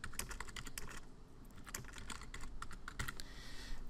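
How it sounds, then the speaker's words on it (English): Steady typing on a computer keyboard, rapid key clicks rattling along continuously with no voices. "Just start typing."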